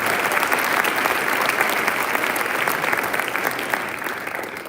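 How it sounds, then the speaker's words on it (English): Sustained audience applause fills a fall sports award ceremony, steady dense clapping at even volume throughout, fading slightly toward the end. "So, big round of applause to those guys."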